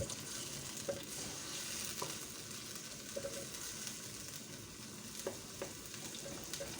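Ingredients for an Arabian-style shakshuka fry in a pan with a continuous soft, fairly faint sizzle. Light stirring clicks and taps come through at intervals, with no talking.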